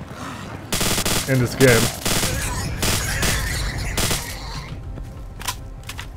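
Suppressed gunfire with subsonic rounds in the video game STALKER: Call of Pripyat, rapid muffled bursts of shots with a few louder cracks, heard under a man's brief speech.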